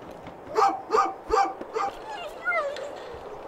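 A dog in the video game A Juggler's Tale gives a quick run of four sharp barks, followed by softer whining yips, with a narrator's voice talking over them.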